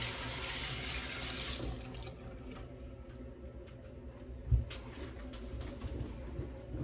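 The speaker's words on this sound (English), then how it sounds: "Rinse my hands off here." Hands rinsed under a running water tap: a loud, steady gush of water for about two seconds, then it stops, leaving quiet room noise with a few small knocks and a soft coo of a pigeon or dove.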